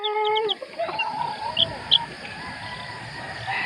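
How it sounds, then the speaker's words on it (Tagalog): Small high chirps from a handful of ten-day-old chicks, the first hatch of a breeding flock of fighting gamecocks, sound in short clusters over a steady outdoor hiss, with a few louder peeps standing out midway. "Nakapag-produce na po tayo ng sisiw dito mga kakakha, no?"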